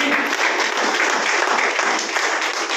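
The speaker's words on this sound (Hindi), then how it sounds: "उनके सम्मान के लिए बहुत जोरदार ताली" Vigorous applause from a seated audience at a company networking event, honouring a general manager, steady and full for the whole stretch without talk.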